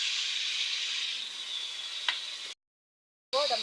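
Chili paste hitting hot oil in a pan with bay leaves after fish has been fried, giving a steady close sizzle that briefly cuts out, then resumes with a clatter.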